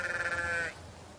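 A single sheep at a sheepdog trial gives a loud, wavering bleat that lasts about half a second, then fades into quiet field ambience.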